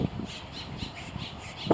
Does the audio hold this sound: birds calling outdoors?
yes